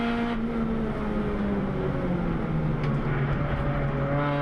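A Mini Challenge Clubsport race car at Donington Park circuit, its engine droning steadily with a sustained tone that shifts in pitch as it passes, mixed with constant track and wind noise.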